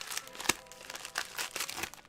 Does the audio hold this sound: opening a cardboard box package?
yes